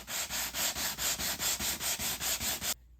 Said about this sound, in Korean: 240방 사포로 연마를 해줬어요.